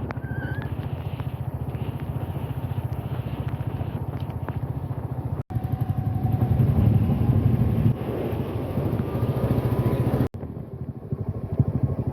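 Two friends ride a motorbike through stormy weather as Cyclone Remal approaches, the engine droning steadily under heavy wind buffeting the microphone, with two abrupt cuts in the sound.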